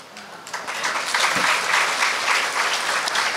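An audience at an evening poetry and prose reading bursts into steady, sustained applause after a poem, a dense even clatter of many hands clapping together.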